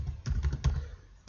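An email address being typed on a computer keyboard: a short run of close, crisp key clicks in an uneven rhythm, a handful of strokes with brief gaps and no talk.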